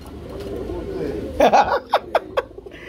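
Pigeons at a market, with low murmuring coos and soft fluttery calls over a background of chatter, then a few sharper bird calls and short bursts near the end.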